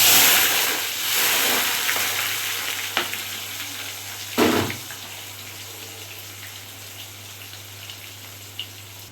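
Onion sizzles and fries in a hot pan, a steady broadband hiss with a loud stir or clank midway and small scraping knocks, no voices over it.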